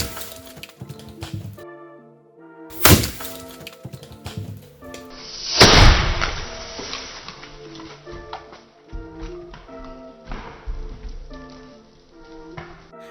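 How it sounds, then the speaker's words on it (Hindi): Big firecracker going off inside a clay pot, a sharp loud crack followed by a second heavy blast with debris clattering and rattling down, amid crackling bits of smaller pops over music. "फ्रेंड्स, इस बड़े वाले पटाखे को इसके अंदर फोड़ेंगे।"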